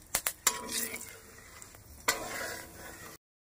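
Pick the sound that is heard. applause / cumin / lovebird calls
cumin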